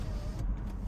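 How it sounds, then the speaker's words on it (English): A Toyota Land Cruiser sunroof motor tilts the roof panel down, giving a brief, steady electric whir inside the cabin. "Sunroof is tilted up, so we're going to tilt that down"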